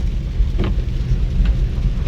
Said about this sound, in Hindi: जिस हिसाब से बारिश हो रही है